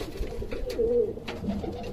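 Pigeons coo in a soft, low, continuous burble from close by, with a brief rising call standing out midway.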